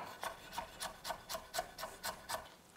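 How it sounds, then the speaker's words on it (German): A knife roughly chops fresh ginger on a board for pumpkin soup, about nine evenly spaced, soft rasping strokes in a steady rhythm, close and quiet. "Den Ingwer, den schneide ich auch nur grob klein."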